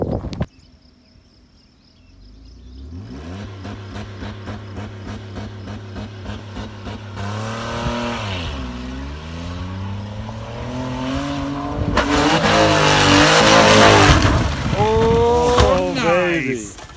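AWD Ford Escape engine revving before a jump, rising through long accelerating sweeps and gear changes that grow louder and closer, with wind and rough outdoor noise at the end.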